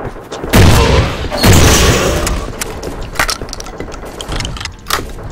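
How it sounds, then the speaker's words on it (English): Gunfire in the zombie shooter BrainBread 2 comes as loud, dense bursts of rapid shots early on, followed by scattered sharp cracks and clatter over a noisy game background. "Propane machine gun."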